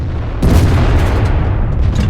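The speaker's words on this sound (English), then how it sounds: "I shot and missed, but somebody else got him." A tank gun fires in World of Tanks while driving the WZ-111, a sudden loud deep boom that rolls into a long rumbling decay, close and heavy with no talking.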